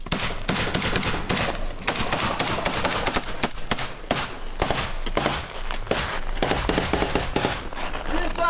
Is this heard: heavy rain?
no